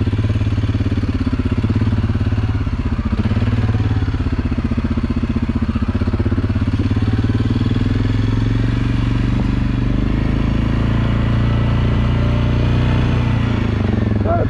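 A Suzuki King Quad 750 ATV engine running steadily on a wooded trail near St. Helen, Michigan, a loud continuous low rumble held at moderate throttle throughout.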